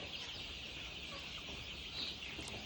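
A broiler flock on a poultry farm gives off faint, distant, continuous clucking and chatter as the birds run about in the shed.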